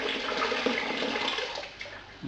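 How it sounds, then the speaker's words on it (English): Sparge water gushes steadily from a Brewzilla all-grain brewing system's tap into a vessel, a continuous splashing pour with small clunks near the end. "I'm just taking out sparge water"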